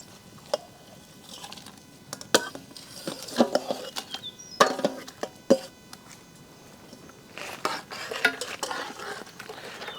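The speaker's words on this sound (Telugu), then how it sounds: "ఖోవాని చక్కగా పాలల్లో కలిసేంత వరకు కలిపేసి" Khoa being stirred into milk in a pan for Hyderabadi double ka meetha, with scattered spoon scrapes and clinks against the metal pan coming in uneven bursts, fairly close and without talk.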